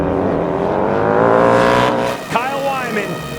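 Harley-Davidson bagger motorcycles race side by side into a corner during a 2022 King of the Baggers race, their engines roaring loudly with rising and falling pitch as they brake and pass, while a commentator talks over them.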